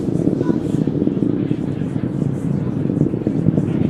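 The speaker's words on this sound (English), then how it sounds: "the Merlin 1D engines have throttled back up to full power" Falcon 9 first-stage Merlin 1D engines at full power after max Q, a steady loud broadband roar with dense low rumble that holds without break throughout.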